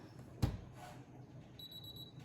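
A sewing machine gives a short, high electronic beep repeated a few times in quick succession, following a single soft thump.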